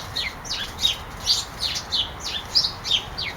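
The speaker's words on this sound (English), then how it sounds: "I love little birds," Small birds squabble in a fight, giving a run of sharp, high chirps in quick repeated bursts, moderately loud and close, with no voices over them.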